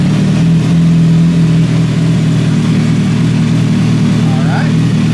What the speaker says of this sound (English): I'm gonna start the bike